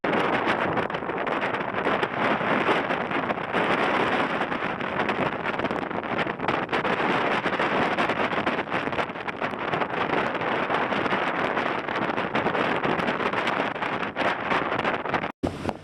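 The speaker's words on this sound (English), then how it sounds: "The wind always gets stronger as we move around here" Strong wind on a cruise ship's deck roars continuously across the microphone, a loud, unbroken rush with gusty buffeting throughout.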